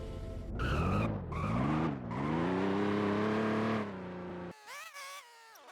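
A car drives in the Roblox video game with a loud, close engine that revs and whines up and down in pitch for several seconds, followed by brief squealing bursts, and no one talks.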